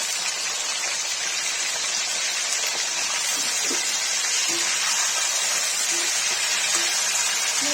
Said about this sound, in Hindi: तेल गर्म हो गया, पनीर फ्राई करेंगे